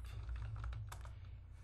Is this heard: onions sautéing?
no